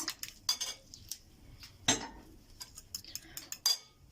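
A fork beats eggs in a bowl with milk, salt and black pepper, giving quick uneven clinks and taps against the dish, close and moderately loud, with short quiet gaps between bursts.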